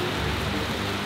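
Rain falls on a pickup truck fitted with a sleeping cabin on its bed, a steady, dense hiss of drumming with no breaks and no talking.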